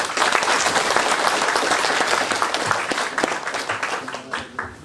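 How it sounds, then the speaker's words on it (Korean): A crowd applauds at the 16th Nogunri Peace Prize award ceremony, with sustained clapping that starts strong and then thins into scattered claps toward the end. "감사의 박수 한번 부탁드리겠습니다"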